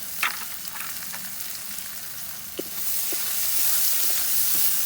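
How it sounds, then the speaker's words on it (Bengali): Chopped onion frying in leftover fish-frying oil with cloves, cinnamon and cardamom, a steady close sizzle with a few soft ticks and pops that swells louder partway through, no voices. "পেঁয়াজ কুচি দিয়ে দিলাম একটা"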